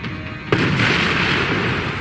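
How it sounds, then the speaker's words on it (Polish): A car blows up in the video game Max Payne 3: a sudden loud blast about halfway through, followed by a sustained roaring, crackling rumble of fire and debris with no talk. "Coś wybuchło. Eksplodował samochód."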